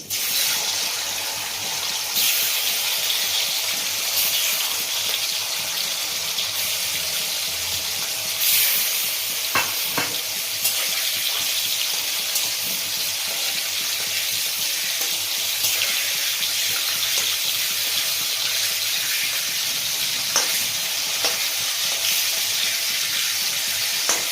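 Hilsa fish pieces fry in a wok with turmeric and green chillies, giving a loud, continuous hissing sizzle with a few sharper crackles, close up and unbroken for the whole stretch.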